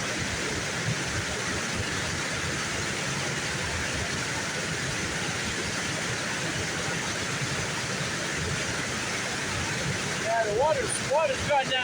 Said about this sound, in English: Looking around here, you can look at the waterfall.